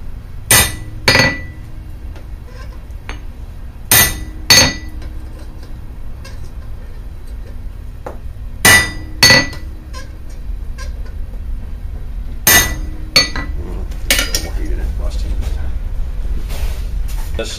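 A blacksmith hammers and punches a hole in a hand-forged coat hook. Sharp, ringing metal strikes come mostly in close pairs, spaced every few seconds, with faint workshop noise between them.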